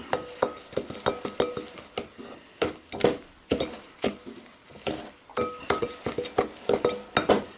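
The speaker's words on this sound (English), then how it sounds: "Fold that in a little bit" Flour being folded by hand into a cake batter in a mixing bowl, heard as a rapid run of spoon-against-bowl clinks and soft wet scrapes, close and steady, with no talk.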